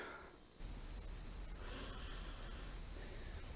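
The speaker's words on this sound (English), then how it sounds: "Old patented Lake Fork guy sniff." A loud, close sniff or snort from a man fishing on Lake Fork right after landing a fish, rushing breathy noise over a steady hiss of outdoor background.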